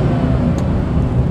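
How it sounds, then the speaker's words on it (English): Dodge Charger Hellcat with a 6.2 liter Hemi V8 under the hood, heard as a loud, steady, close engine roar filling the short moment without a distinct rise or fall. "I'm going to rev it up for you here in a little bit and show you just how loud it is."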